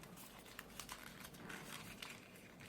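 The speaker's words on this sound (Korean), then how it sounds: "가위로 자르고" Scissors cut through origami paper while a paper dog is being folded, giving quiet crisp snips and rustles in a short irregular series, close by and with no talk.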